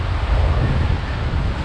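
Water rushing and splashing on the Sky Rafting ride at Skylinepark, a loud, steady roar of spray and wind with no break, up close.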